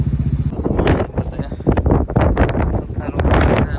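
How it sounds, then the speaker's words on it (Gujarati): Gusty wind buffets the microphone with heavy rumbling bursts that rise and fall, loud and close, a voice faintly mixed in. "જો પવન આવે."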